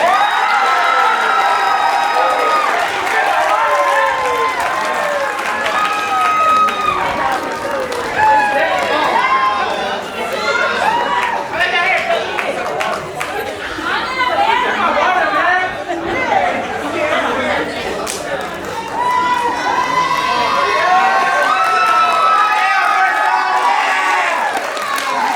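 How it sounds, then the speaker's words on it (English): An audience at a youth rock music showcase in a community arts center claps and cheers loudly, with shouts and excited chatter from the crowd throughout. "So can you guys please give a big round of applause for Alberto."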